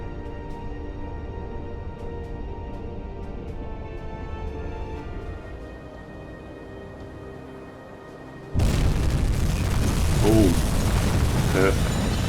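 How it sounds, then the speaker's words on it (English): In a U-boat video game, a torpedo strikes a tanker: after a steady low engine drone, a loud deep boom erupts and sustains as a broad rumbling roar with crackling bursts. "They normally explode, have a bigger explosion after a torpedo, which might help it to cause a bit more damage."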